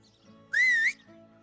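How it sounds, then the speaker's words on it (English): In the video game Medieval Dynasty, a character gives a single sharp, rising-and-falling whistle that lasts under half a second to summon a mount, heard alone against quiet in-game ambience. "when you whistle your mount, it's being summoned quite far away from where you are"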